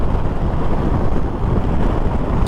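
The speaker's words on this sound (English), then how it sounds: "Man, this bike just wants to go." A Honda Transalp 750 motorcycle ridden at highway speed of about 80 mph, heard mostly as heavy, steady wind rush buffeting the microphone, with the engine's drone buried beneath the constant roar.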